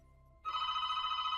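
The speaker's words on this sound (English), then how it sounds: "Next to me, the phone rang." A telephone starts ringing with a loud, close electronic trill after a brief quiet moment, pulsing rapidly and sounding alone.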